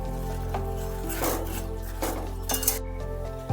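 A metal lid is set lightly onto a cooking pot of taro stems with fish head, giving a few soft clinks and scrapes of metal against the rim amid kitchen clatter.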